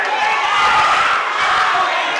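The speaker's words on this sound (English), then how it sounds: "Everyone clapping in the arena." An arena crowd at a boxing match, a loud, dense wash of clapping and cheering that holds steady for a couple of seconds with no break.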